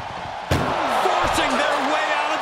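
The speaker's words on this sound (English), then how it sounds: "Just trying to close one door." An ambulance door slams shut during a wrestling video game ambulance match: one sharp, loud bang, then a second, softer thud a moment later, over steady arena crowd noise and voices.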